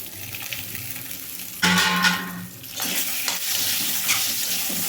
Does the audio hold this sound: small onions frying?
yes